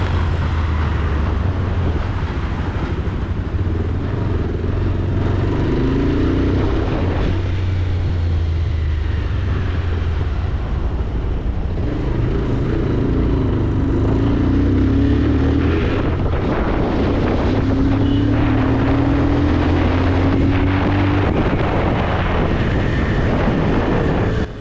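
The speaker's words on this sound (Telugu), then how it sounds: "ఆ ఎగ్జాస్ట్ నోట్ విన్నారా? ఒక స్ట్రాంగ్ ఎగ్జాస్ట్ నోట్ అని చెప్పొచ్చు." A Bajaj Pulsar 220F motorcycle rides under throttle, its engine a steady low drone that rises in pitch in several sweeps as it accelerates, heavily buffeted by wind noise across the whole ride.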